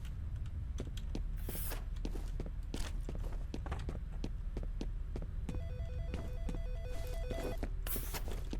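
A telephone rings inside the F.E.A.R. video game, steady repeated tones over a constant low throbbing hum and scattered footstep-like taps, no talk.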